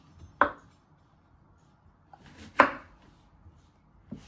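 A knife chops courgette into medium pieces on a board: three sharp, separate thuds spaced across a quiet kitchen, the last one softer.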